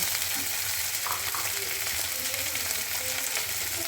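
Dried fish (shutki) fries with garlic in a pan, making a close, steady crackling sizzle throughout with small stirring scrapes.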